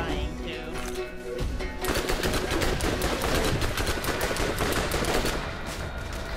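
Rapid turret gunfire in the video game Borderlands rattles out in dense, sustained bursts that swell after a brief quieter lead-in, loud and continuous, with voices talking over it.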